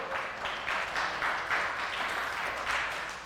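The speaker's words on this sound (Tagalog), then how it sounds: "Tuloy natin yung palakpak sa Lord" A church congregation applauds the Lord with continuous, even clapping from many hands that stays steady and moderately loud for the whole stretch.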